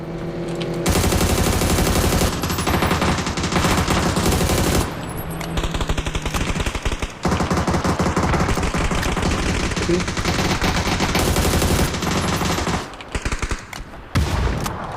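Loud, sustained bursts of rapid automatic gunfire in PUBG: Battlegrounds on the Rondo map, with brief pauses between long volleys and single shots near the end.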